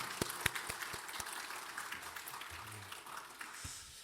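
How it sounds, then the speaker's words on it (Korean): A church congregation applauds the choir after its hymn during a Sunday worship service: faint, steady clapping with a few sharper claps standing out, lasting throughout and tailing off at the end. "우리 감사의 마음으로 찬양대에 박수 한번 하시겠습니다."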